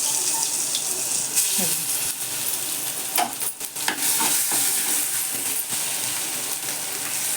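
Curry leaves and ginger-garlic-chili paste fry in a pan for vada pav filling, giving a steady close hiss with bursts of spattering and a few stirring scrapes throughout.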